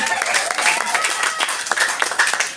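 Audience applause at a Maulid Nabi celebration in a residential complex, dense clapping from a gathered crowd, steady and fairly loud throughout.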